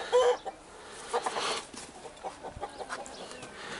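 A rooster clucks in a farmyard, giving several short, uneven clucks against a faint outdoor background. No one speaks.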